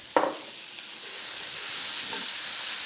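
Shredded carrots and asparagus hit a hot pan for a keto chicken stir fry, with a sharp initial crackle giving way to a steady, fairly loud sizzle and frying hiss.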